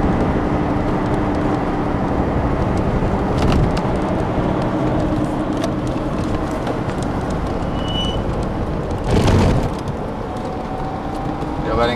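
A clutchless electric DeLorean cruising in third gear at highway speed, a steady road and motor drone throughout, with a brief louder whoosh of passing traffic near the end.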